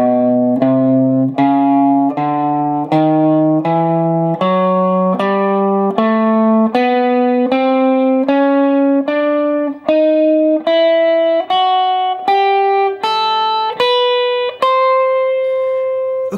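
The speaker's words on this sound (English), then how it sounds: "we have this very powerful Mixolydian blues hybrid scale. Looks and sounds like this." Distorted electric guitar runs up a Mixolydian blues hybrid scale in a steady, evenly picked sequence of about twenty notes, climbing gradually in pitch, loud and close with no talking.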